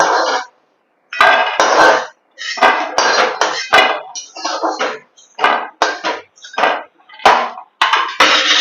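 Fried bori lifted out of a wok with a metal utensil, making repeated close, loud scraping clinks and knocks in quick irregular bursts with brief pauses between.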